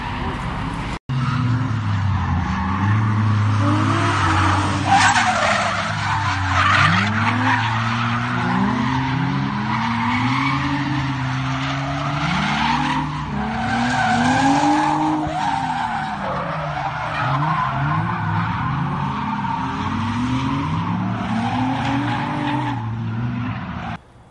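A Nissan Z drift car slides at a drift park with sustained skidding and tire squeal. Its engine surges and falls in repeated waves as it revs, the sound stays loud and close for the whole run, and a brief voice may come through.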